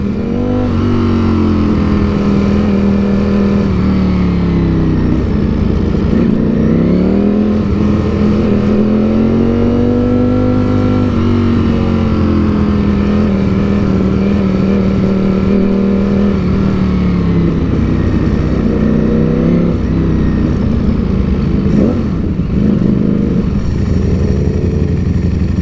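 A 2021 Ducati Streetfighter V4 is ridden on Miami streets. Its loud, close engine note rises and falls steadily through repeated revs and gear changes, with a continuous roar and no talking.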